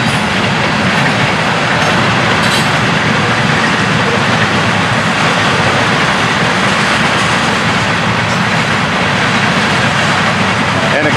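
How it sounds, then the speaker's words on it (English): A Florida East Coast Railway train rumbles past nearby in east central Florida, a steady, loud roar of wheels and rail noise filling the whole stretch with no letup. "a great spot to watch a train right here at my front door"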